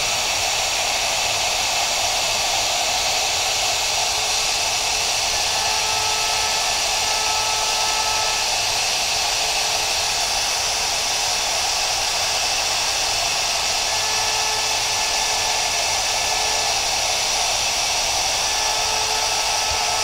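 Shaper Origin handheld CNC router cutting a first 6 mm pass for dovetail joints, a loud continuous high-pitched spinning whine with steady cutting noise and no pauses.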